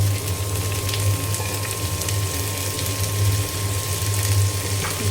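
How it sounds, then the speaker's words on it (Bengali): Malabar spinach seeds and potato pieces frying in hot oil with onion and green chilli, a steady close sizzle with soft crackles running throughout, no voices. "আমি এখানে পুঁইয়ের ফল আর আলু ভাজি করব।"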